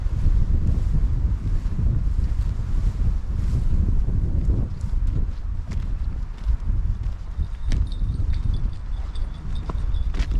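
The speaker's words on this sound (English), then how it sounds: "it's very windy here" Steady, loud wind buffets the microphone with a low rumble throughout by a dam in Banagher Glen Forest Park, Dungiven, County Londonderry, and faint clattering sounds come through now and then.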